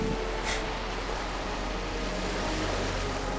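Sea waves around the maritime city of Limsa Lominsa in Final Fantasy XIV, a steady soft wash of surf and wind, continuous and moderately faint with no talk.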